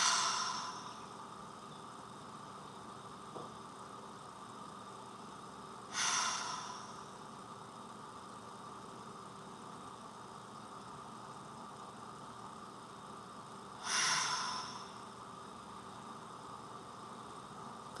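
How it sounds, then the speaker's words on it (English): Three slow, deep breaths spaced several seconds apart over a quiet hiss, each a soft airy exhale rising and fading, during a calm guided relaxation. "Take 3 deep breaths."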